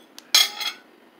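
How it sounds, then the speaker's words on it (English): A knife is pushed into the stem end of a banana to begin peeling it, a single close, sharp click and brief scrape, then quiet. "the easiest and the least messy way to start a banana peel is with a knife. You stick it in here."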